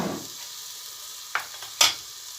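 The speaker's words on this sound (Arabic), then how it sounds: "غادي نبدا نحركو" Chopped celery, onion and carrot for a soffritto sizzle steadily in about seven large spoonfuls of oil in a pan, with two sharp scraping stirs near the end.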